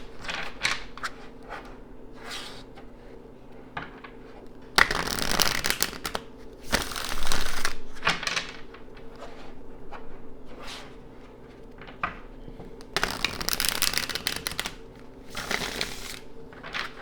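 A tarot card deck is shuffled close up, with soft papery riffles and flutters, two louder bursts of rapid card-flapping, and light tapping and sliding of cards in between over a quiet room hum.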